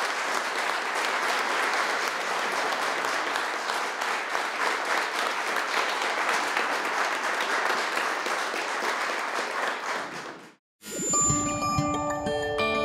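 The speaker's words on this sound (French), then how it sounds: "Une bonne main d'applaudissement à nouveau pour Benoît Gravel." An audience gives a steady round of applause at a Georgian Order of Merit ceremony. Dense clapping holds for about ten seconds, then stops abruptly and a bright chiming jingle follows.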